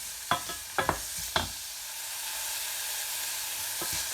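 Onions frying in a pan for Goan fish curry give a steady, close sizzling hiss, with a few sharp stirring clicks and scrapes in the first second and a half and once more near the end.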